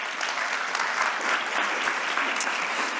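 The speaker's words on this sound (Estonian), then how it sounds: "Suur aplaus!" Audience applause at a pocket-library opening, steady dense clapping from a crowd filling the space evenly throughout, with no talk over it.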